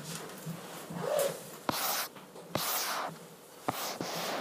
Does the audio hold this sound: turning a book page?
yes